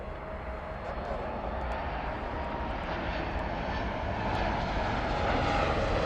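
An aircraft at LAX airport passes as a broad, steady engine roar that swells slowly toward the end. It sounds moderately distant and continuous, and faint voices can be heard under it.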